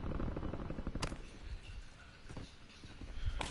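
Gunfire during a multiplayer battle royale video game match, sharp shots cracking at about one second and again near the end, over a busy rumbling background.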